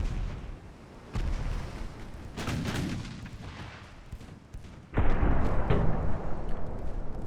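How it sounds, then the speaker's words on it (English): A 1908 French fleet's 9-inch and 5-inch naval guns fire armor-piercing shells in a naval strategy game, booming in scattered heavy blasts that grow louder and denser toward the end, with rumbling sea-battle noise underneath. "Now the 5-inch guns are joining in, and they should be able to score full-on penetrations."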